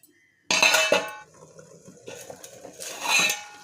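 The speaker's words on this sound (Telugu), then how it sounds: "ఇలా పోపులో పప్పు అంతా మిక్స్ చేసుకోవాలి" A metal spoon scrapes and clinks against a cooking pot of Malabar spinach dal in two bursts of stirring, close and fairly loud.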